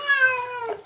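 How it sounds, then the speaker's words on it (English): A cat gives one drawn-out, close meow while its paws are wiped clean indoors, the call rising and then falling away before ending. "Little dirty kitty."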